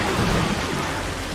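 Steady, dense rain hiss with a low rumbling undertone fills the whole stretch, loud and unbroken, as the rain effect plays in the zombie driving game Zombie Driver.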